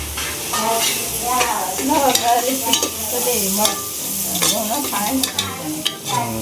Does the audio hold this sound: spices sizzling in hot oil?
yes